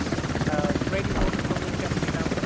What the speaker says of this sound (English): He is being chased by a helicopter from far